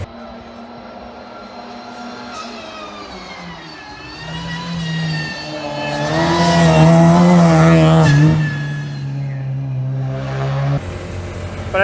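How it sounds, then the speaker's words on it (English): Race cars warm up their engines at the Shelsley Walsh hillclimb. A loud, close engine idles, then revs up in a rising roar, holds and drops back, with other engines running in the background. "Everybody's sort of started up and warming cars up and stuff like that."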